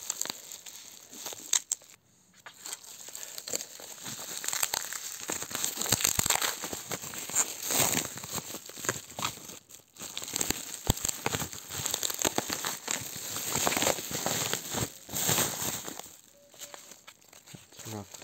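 Hands tear and crinkle the tight plastic wrapping on a Nintendo DSi package, a steady run of crackling, ripping bursts close to the mic across many seconds, pausing briefly now and then.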